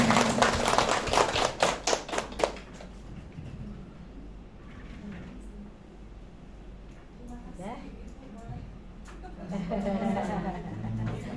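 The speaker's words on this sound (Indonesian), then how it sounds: "Tepuk tangan untuk kita semua." Clapping from a small school gathering for prospective teacher leaders, a short burst of sharp claps at the start that fades out quickly, followed by murmuring voices and talk in the room.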